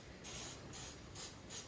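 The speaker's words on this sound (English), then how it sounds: "I have canola oil spray, just as fine. I'm going to shake it up, and I'm going to spray out here" Canola oil cooking spray hisses onto a brownie pan in three short, sharp bursts close to the microphone, with brief pauses between them.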